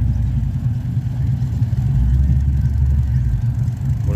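The V8 engine of a 1960s Holden HK Monaro GTS 327 rumbles deeply and steadily at a car rally, a close, loud low drone with no talking over it.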